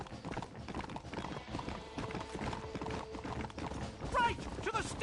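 Horse hooves galloping in the video game Red Dead Redemption, rapid rhythmic clip-clop close by with a brief whinny near the end, under game dialogue and music.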